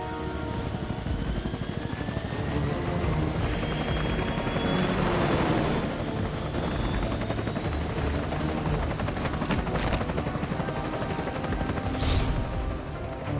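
Mi-24A helicopter in the video game Metal Gear Solid: Peace Walker, a steady, loud rotor and engine drone that holds throughout, with whining turbine tones sliding overhead and game effects layered on top, no talking.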